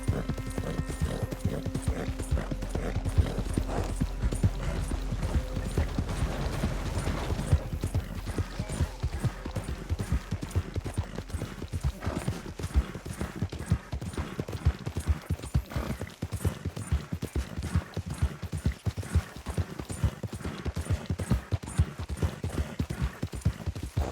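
Horse hooves in Red Dead Redemption 2 keep up a continuous rhythmic clip-clop at a steady trot, close and even throughout with faint tack and gear rattles and a brief whinny.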